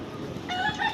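A hen gives a short cluck, close by and brief, over faint outdoor background.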